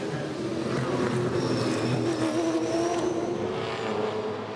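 Supercars race around the Sydney 500 street circuit, a steady loud roar of engines with a rising and falling whine as cars pass, and commentary faintly underneath.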